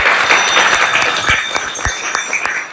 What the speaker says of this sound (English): let's hear a big round of applause for Prabhu.